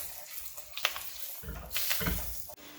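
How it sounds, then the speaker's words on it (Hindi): Water is poured into frying masala for an egg and potato curry, giving a rushing, hissing splash that swells for about a second over a quieter pan sizzle. "मैं इसमें थोड़ा सा पानी ऐड कर रही हूँ ताकि ये जो अभी हमने मसाले ऐड किए हैं वो बिल्कुल भी ना जलें।"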